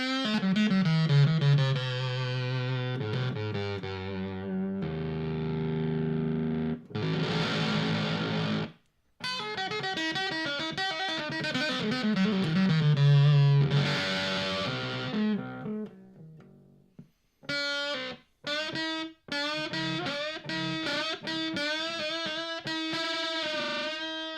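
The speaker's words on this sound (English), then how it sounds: "if you really want that octave sound at a low price point, maybe check this one out" Electric guitar through a Danelectro French Toast octave pedal, a thick doubled-octave tone playing bending phrases and choppy riffs, loud with short pauses between passages.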